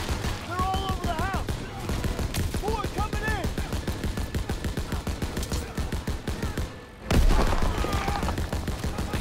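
Machine gun fire in the World War II shooter Call of Duty: WWII rattles in long rapid bursts, with a brief pause near the end before firing resumes, while a voice talks over the gunfire.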